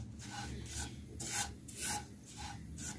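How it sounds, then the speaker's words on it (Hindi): Coconut powder is roasted in a pan and stirred, giving soft, rhythmic scraping rubs about every half second, faint and close, with no talking. "कोकोनट पाउडर लिया है इस तरह से, तो हम थोड़ा सा इससे भून लेंगे, एक मिनट के लिए भूनेंगे"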